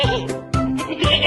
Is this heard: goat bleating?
yes